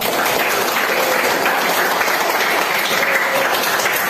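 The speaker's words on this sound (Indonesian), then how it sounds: "Tepuk tangan untuk trio." Classroom applause from students after a trio of children finish speaking, a steady dense clatter of many hands, fairly loud and sustained throughout without speech.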